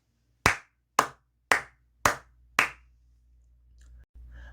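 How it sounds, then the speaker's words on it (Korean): Five loud, separate hand claps in a steady rhythm about half a second apart, close and dry, followed by a faint low hum of room noise. "크게 박수 한번 치고 가도록 하겠습니다"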